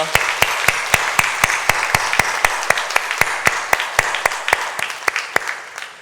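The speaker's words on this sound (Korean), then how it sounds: "우리 함께 영광의 박수 올려드리겠습니다." Rhythmic unison clapping from a church congregation during a Sunday service, sharp evenly spaced claps at a steady beat lasting several seconds, fading slightly toward the end.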